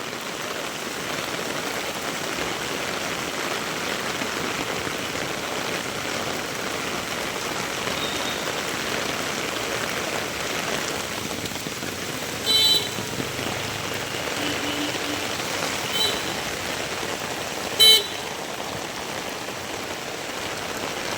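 Torrential rain pours steadily and heavily, a dense unbroken hiss of drops pounding surfaces, with a few brief sharper knocks standing out partway through.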